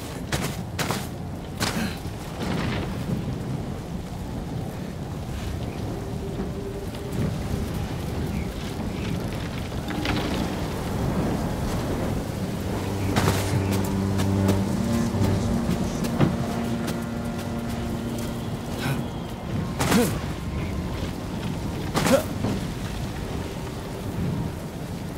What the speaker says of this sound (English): A storm's coming.